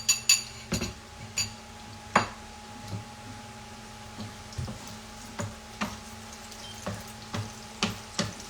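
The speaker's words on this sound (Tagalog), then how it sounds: "I-melt niyo lang yung butter sa pan" Butter melting in a pan during a late-night home cooking session, with a low sizzle beneath a series of sharp utensil and pan clinks spaced through the clip.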